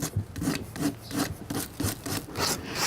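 Sandpaper scuffs the painted surface of an old wooden nightstand in steady back-and-forth strokes, a loud close rasping rhythm of about two strokes per second.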